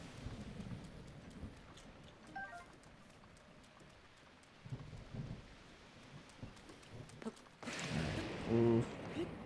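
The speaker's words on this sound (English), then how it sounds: "I don't like getting close to those lightning strikes." Thunderstorm in The Legend of Zelda: Breath of the Wild (Master Mode): steady rain hiss with low distant rumbles, then a sudden loud lightning crack near the end that rolls into heavier thunder.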